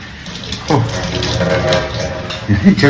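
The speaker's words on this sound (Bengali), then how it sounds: "হাতটা ধুয়ে নেই" Hands rinsed under a running tap in a home kitchen, steady splashing water close by with a few bumps and clatters, and a person talking over it.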